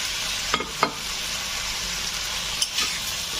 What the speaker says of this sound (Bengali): আমি এখন ভেজে রাখা আলু আর পেঁপেটা দিয়ে দেব